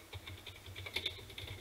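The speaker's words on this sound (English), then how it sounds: "typing that" Soft, quick keystrokes on a computer keyboard patter along steadily and fairly quietly, with no one speaking.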